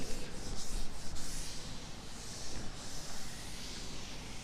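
Steady rubbing and scraping of a board eraser wiping writing off a classroom board, continuous and fairly close for several seconds with no talk.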